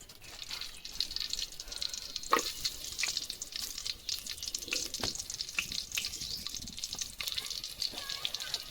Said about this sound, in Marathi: तर आता आपण लसूण घालून घेऊया.